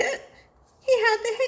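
A voice imitates a cartoon skeleton's hiccups, making a short hiccup sound followed by a brief pause and then a longer voiced burst.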